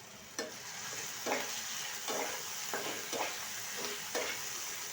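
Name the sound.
potatoes frying in a pan with turmeric and salt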